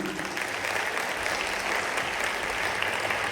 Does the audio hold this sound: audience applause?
yes